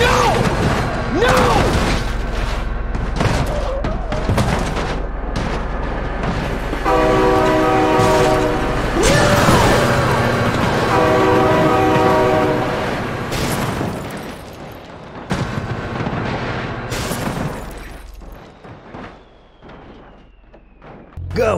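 In a video game, a train rumbles loudly as it approaches, its horn blaring in two long sustained blasts amid crashing booms and clatter from a truck hauling cars on a flatbed trailer, then the noise fades.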